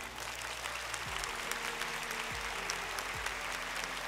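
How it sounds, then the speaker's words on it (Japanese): An audience at the Monster Strike Grand Prix 2024 Japan Championship esports awards applauds steadily to welcome a presenter on stage, with dense clapping over low background music. "大きな拍手でお迎えください"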